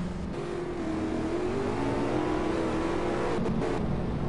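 A GT race car in a racing video game at Spa accelerates too early out of a corner and spins, with a loud, steady engine roar that wavers in pitch and a brief scrub near the end.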